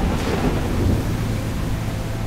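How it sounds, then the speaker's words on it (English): Thunder rumbles low and continuous through steady heavy rain over the Great Salt Lake in Utah, a dense unbroken wash of storm noise with no voices. "The Great Salt Lake region regularly receives heavy rains blowing in from the Pacific Ocean."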